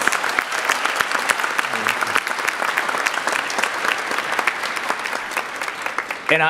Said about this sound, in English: Can we go ahead really quick and just give a round of applause to everybody here for a great job?